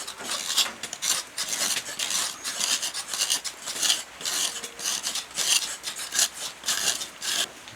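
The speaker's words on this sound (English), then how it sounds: "And yeah, you just keep on scraping." A small sharp hand scraper grinds over a tough surface in a remote Amazon community, giving rhythmic, close rasping strokes that repeat steadily about twice a second with no talking.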